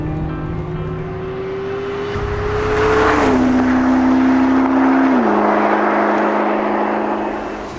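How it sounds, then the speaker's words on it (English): McLaren P1 supercar driving on a public road, its engine a steady loud drone that climbs in pitch and then drops twice as it shifts up through the gears, with no voices. "We drove the McLaren P1 for 3 days straight and on all sorts of different roads"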